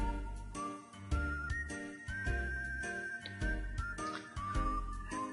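Melodic whistling theme from the video game Wild Arms 2, a steady tune over soft plucked and chiming accompaniment, playing alone without any voices.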